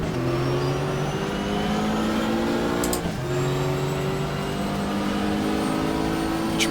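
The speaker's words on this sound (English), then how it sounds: "off goes number 10 Porsche" The number 10 Porsche race car in GTR2, a racing video game, pulls away with a steady, sustained engine drone and whine that shifts pitch briefly around midway, heard continuously and fairly close.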